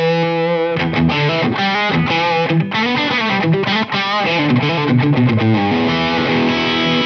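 An Epiphone Flying V run through a Fishman Fluence pickup's single-coil voicing plays a loud distorted riff with quick chugs, stops and sustained notes, brighter in character, with no talking.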